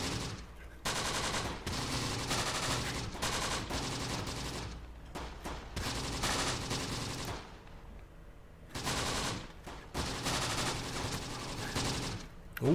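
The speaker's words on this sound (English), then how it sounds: "Looks like they've got a machine gun over here that I'm unable to see." Machine-gun fire and volleys of shots in the Close Combat: The Bloody First war game, loud, dense bursts coming in waves with brief lulls between them.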